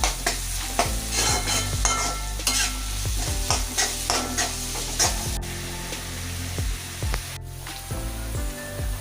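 Browned onions frying with a spoonful of ginger garlic paste, loud crackling sizzle under repeated rhythmic stirring scrapes and clinks of a spoon against the pan.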